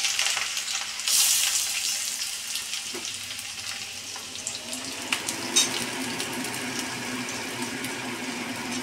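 Sliced onions frying in oil in a home kitchen pan, a soft steady sizzle with occasional stirring clinks and a brief burst near the start, fairly quiet and close.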